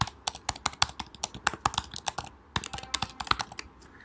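Fingers tap out a password on a computer keyboard, a quick irregular run of crisp, close keystrokes with a brief pause midway, with no talking.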